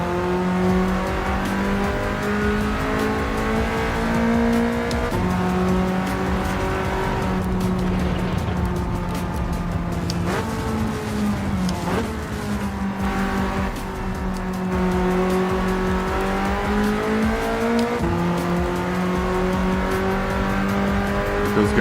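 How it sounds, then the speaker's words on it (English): A BMW race car in Gran Turismo 7 holds a loud, sustained engine drone with strong steady harmonics, rising and dipping as gears shift and revs change, with a brief tire squeal in the middle and no talk over it. "It does sound good, the BMW."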